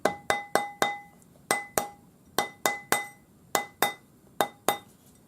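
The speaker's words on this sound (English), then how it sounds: "slide your ring on the ring mandrel, and use your rawhide" A rawhide mallet taps a pearl ring seated on a steel ring mandrel, giving about fifteen sharp, ringing metallic knocks in quick pairs and small groups, close and clear with no talk.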